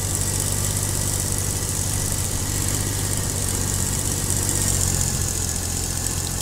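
A tractor engine in Farming Simulator 22 runs at a steady, loud drone without letup, with no one talking over it.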